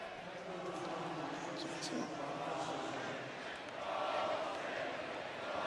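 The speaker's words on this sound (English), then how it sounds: "So the crowd here voicing their displeasure, if you hear it." A stadium crowd at a San Jose State versus Stanford college football game rumbles in a broad, sustained roar of displeasure after a Stanford penalty, distant and steady beneath a commentator talking.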